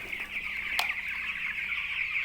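Chickens on a poultry farm cluck and chatter in a continuous dense chorus, with one brief sharper call standing out near the start.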